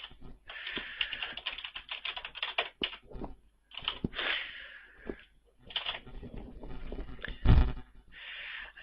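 Close keystrokes on a computer keyboard come in bursts of rapid clicks with short pauses, as sign-up details such as an email address and username are entered; no one speaks.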